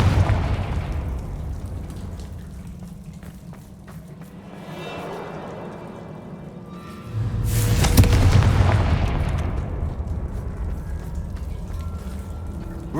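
Explosive Confringo spell blasts in Hogwarts Legacy, a deep booming burst near the middle that rumbles out over several seconds, with softer impacts and effects around it.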